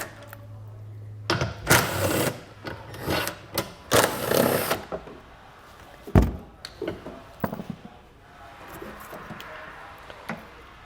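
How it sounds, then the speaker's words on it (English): A power driver with a 10mm socket backing screws out of exterior trim on a 2021 Tesla Model 3, several short whirring bursts close by, separated by clicks and handling noise. "we're going to take a 10mm socket, and we're going to have several screws on the outside here"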